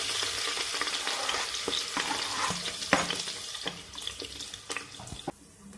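Onion hits hot oil with crackling mustard seeds and cumin in a pressure cooker, a dense sizzling hiss punctuated by sharp pops and scraping stirs, close and steady without talk.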